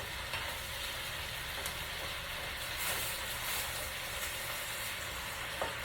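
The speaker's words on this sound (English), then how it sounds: "this is a sauteed cabbage and potatoes" Cabbage and potatoes sauté in a cast iron skillet with a steady, close sizzle, broken now and then by a few light scraping stirs. No one speaks.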